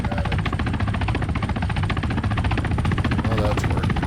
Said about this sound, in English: The helicopter's taking off right from over here.